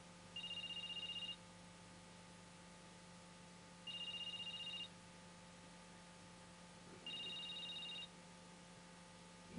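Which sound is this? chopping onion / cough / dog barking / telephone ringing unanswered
telephone ringing unanswered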